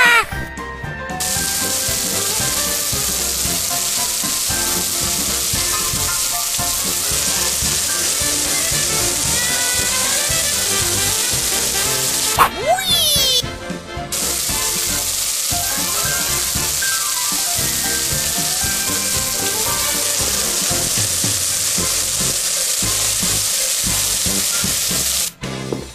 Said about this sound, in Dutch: ik zal alle ingrediënten zoeken om gebraden vis te bakken.